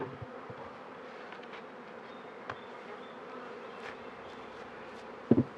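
Honeybees from a newly installed swarm buzz at the entrance of a new hive, a steady close hum running throughout, with a brief knock near the end.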